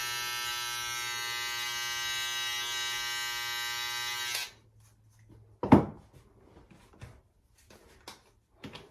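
Electric hair clippers buzz steadily and loudly for about four seconds during an at-home haircut, then cut off, leaving a sharp thump and a few faint handling clicks.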